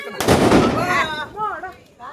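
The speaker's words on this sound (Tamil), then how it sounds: "பட்டாசு தான்" A large Diwali firecracker goes off nearby with a loud, sharp burst that rolls into a crackling, fading tail, as excited voices shout and talk over it outdoors.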